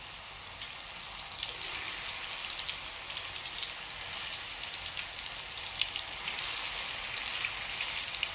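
Herbal karisalankanni leaf and henna paste dropped into hot, well-heated oil, giving a steady, dense crackling sizzle that stays even and close throughout with no voices.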